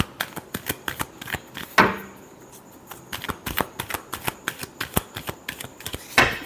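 Tarot cards being shuffled by hand, a quick run of crisp papery riffles and taps repeating steadily, close and fairly quiet, with a couple of longer cascading riffles standing out.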